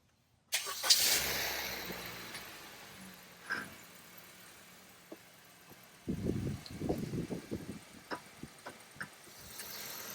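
A Honda Civic engine cranks and catches, then settles into a low, uneven idle with a few louder revs toward the end.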